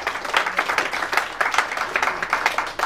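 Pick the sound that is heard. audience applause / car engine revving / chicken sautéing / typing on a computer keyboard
audience applause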